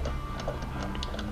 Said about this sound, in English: So now I'm taking the lug nuts off